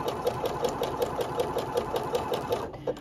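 A sewing machine stitching with a three-cord gathering foot runs in a steady, even rhythm of quick repeated needle strokes, close and moderately loud, slowing and stopping near the end.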